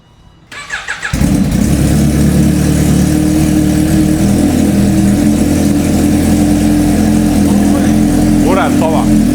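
Car with a blue titanium exhaust and green chassis starting up and revving, a quick burst of rising engine pulses settling into a loud, steady, throaty drone that dominates throughout, with a faint voice briefly near the end.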